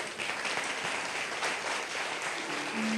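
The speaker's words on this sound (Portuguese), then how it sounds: "Dê um aplauso ao Senhor" Church congregation applauding during a worship service, steady dense clapping filling the whole stretch at a moderate distance, with a faint voice near the end.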